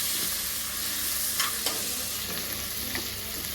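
Garlic frying in a pan for gongura gravy, a steady close sizzle with a few light clinks and scrapes of a spoon stirring.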